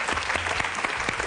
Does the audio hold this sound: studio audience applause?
yes